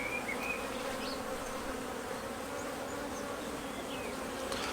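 Honeybees hum and buzz steadily around an open nucleus hive during an inspection, a dense, continuous drone at close range with no talking.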